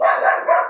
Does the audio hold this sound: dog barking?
yes